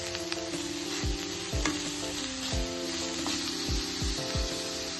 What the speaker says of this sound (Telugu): ఇది కొంచెం వేగాక బీట్రూట్ తురుము కూడా వేసి వేయించేసుకోవాలి.